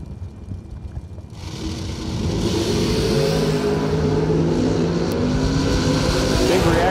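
A 1970 Chevelle SS and a Beretta launching side by side at a drag strip, engines swelling from a lower rumble into a loud, sustained roar that stays high and distant-wide across the track.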